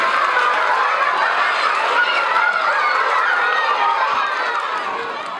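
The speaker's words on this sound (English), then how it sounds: "Can I have a little applause for Shauna?" A school audience at a Mad Science presentation at the Doran School claps for a student volunteer, a steady wash of applause that holds evenly and eases slightly at the end.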